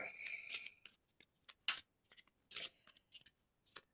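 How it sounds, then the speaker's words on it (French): Oracle cards are shuffled nearby in quiet, uneven bursts of papery riffling and slapping, with short pauses between. "on mélange les cartes"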